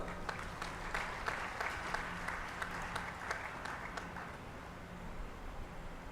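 Steady applause from a crowd, fairly distant and even, with individual claps standing out before it thins toward the end.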